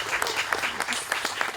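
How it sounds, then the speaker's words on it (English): Audience applause at a community speech event, a dense, steady patter of many hands clapping at moderate level throughout the short stretch. "A big round of applause for sure."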